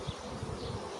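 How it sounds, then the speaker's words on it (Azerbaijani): Honeybees buzz around a hive with capped frames during the nectar flow, a dense close hum with slight pulsing, heard alone. "arılar indi başlayıblar var gücü ilə nektar toplamağa, nektar gətirməyə."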